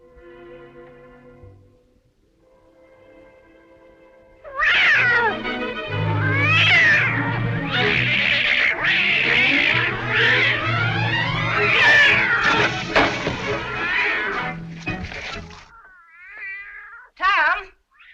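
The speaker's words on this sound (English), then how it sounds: "What on earth ails that cat?" A house cat lets out loud, drawn-out meows and wailing caterwauls close by after a quiet spoken opening, the cries rising and falling for over ten seconds before a final short yowl.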